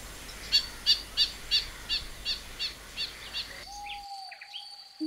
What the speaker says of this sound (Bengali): রং বেরঙের এসব পাখির কিচিরমিচির শব্দ সবুজ কোয়ান্টামমের প্রতিটি প্রান্তরকে করে তোলে মুখর।